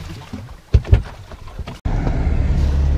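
A boat engine on the Gambia River, in wind and a strong tide, catches midway: after a few thumps and quiet wind, a continuous loud motor drone starts abruptly and holds steady.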